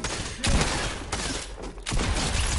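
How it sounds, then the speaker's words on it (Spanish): Gunfire in the video game Fortnite: a few sharp bursts of shots stand out against a steady game soundscape, with one loud volley near the start and another toward the end. "Pues se oyen tiros"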